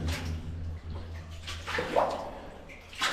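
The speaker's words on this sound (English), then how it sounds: "So through this adit we've got a lot of water flow and a lot of mud on the ground." Water runs steadily through a muddy mine adit on Mount Te Aroha, a soft continuous trickle and splash with faint drips, heard quietly and close by with no talking.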